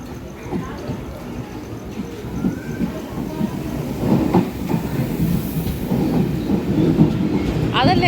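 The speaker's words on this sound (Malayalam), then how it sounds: "ഇപ്പം ഉടനെ ട്രെയിൻ വരും തോന്നുന്നു" A train pulls into a small Mumbai station with a rumbling, gradually swelling rail noise, rising in loudness toward the end, while people talk nearby on the platform.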